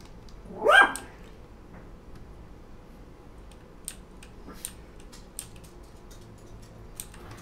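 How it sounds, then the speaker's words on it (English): A dog gives one short, sharp bark near the start, followed by faint scattered clicks and ticks against a quiet indoor background. "Please excuse my borky dog."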